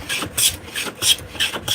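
Beech wood is carved into a spoon, each stroke peeling off thin curled shavings with a dry rasping scrape, about four quick repeated strokes close up with no talk.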